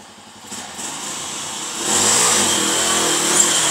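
A motorcycle engine starts low and then swells into a loud, rising rev that holds at a strong, steady pitch, close by and without talk.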